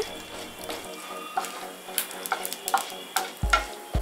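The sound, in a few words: dried red chillies, chana dal and rice frying in oil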